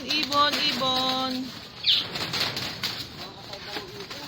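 Birds in a mini zoo at a large house give a few short calls and a burst of flapping wings close by, amid faint background chatter.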